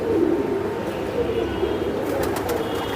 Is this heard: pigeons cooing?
yes